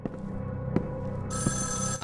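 An electronic telephone bell rings in the Evil Inside video game, with repeated trilling bursts over a low hum and a few dull knocks; no voices.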